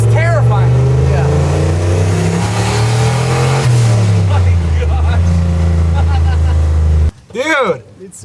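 A high-horsepower truck engine revs loud and close, rising and falling in pitch through several long pulls before cutting off abruptly, followed by a short, sharp burst of revving.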